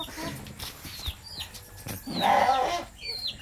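Chickens clucking and chirping while being fed on a farm, short scattered calls near and moderately loud, with people talking among them.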